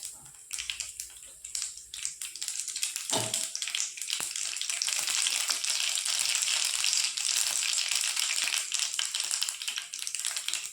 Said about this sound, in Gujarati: હવે સૌ પ્રથમ જીરું એડ કરી દઈએ, રાઈ,